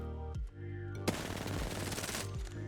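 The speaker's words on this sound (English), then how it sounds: "When I empty a full magazine, you can see that the recoil pattern is not straight but changes its direction several times." A video game firearm emptying a full magazine on automatic, a loud, steady rapid-fire burst of shots lasting over a second before stopping, preceded by a brief single shot and quieter mechanical sounds.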